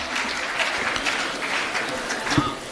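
Audience applause fills a Hindi humorous poetry gathering, a steady dense clapping held at even loudness for the whole stretch with a faint swell near the end and some murmuring underneath.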